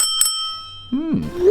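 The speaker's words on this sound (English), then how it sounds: "Both scooters also have a bell which sound like this." Handlebar bell on an electric scooter, the Ninebot Max or Xiaomi M365 Pro, struck twice: a sharp metallic ding followed by a ringing tone that sustains and decays, loud and close, with a brief vocal sound toward the end.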